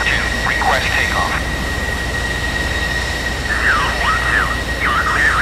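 F-14 Tomcat jet engines whine steadily before takeoff in the DCS flight simulator, a constant high-pitched hum with an underlying rumble, while a radio voice speaks over it.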